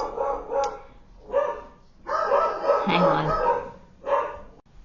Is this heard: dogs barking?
yes